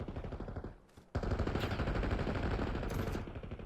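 Rapid automatic gunfire in the Call of Duty Black Ops 6 ranked Hardpoint mode, dense bursts of shots with a short gap before a sustained volley, loud and close.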